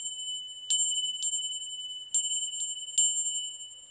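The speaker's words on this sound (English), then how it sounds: "I like to ring bells." A small handheld bell is struck five times at uneven intervals, each bright metallic ding ringing out and decaying slowly, clear and close in a quiet room with no talk.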